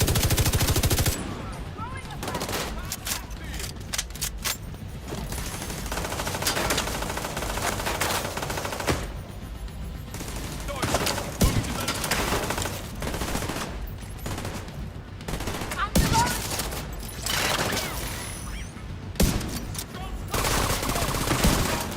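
Light machine gun fire in the video game The Division 2, long sustained bursts of rapid automatic shots with short pauses between, loud and dense throughout.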